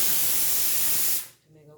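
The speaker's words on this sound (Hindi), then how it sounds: "सीटी आ गई है" Pressure cooker whistle shrieking as steam bursts out, a loud continuous broadband hiss lasting over a second before cutting off abruptly, leaving faint low background sound.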